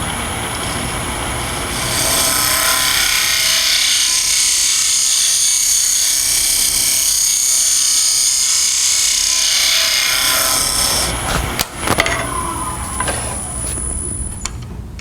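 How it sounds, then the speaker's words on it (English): A curved skew chisel cuts a wooden lidded box spinning on a lathe, giving a steady close rasping hiss for about nine seconds before tapering off into lighter scraping and brief knocks. "This curved skew is really great for doing curved bottoms and stuff."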